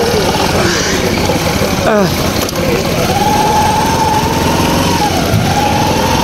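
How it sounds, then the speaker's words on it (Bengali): Continuous high-pitched motorcycle engine drone heard while riding along a road, loud and close with wind rush and passing traffic, the pitch sliding slightly, while a person talks over it. "দেখতে পাচ্ছ রাস্তা দিয়ে যাচ্ছি আমরা মোটর সাইকেল চালিয়ে"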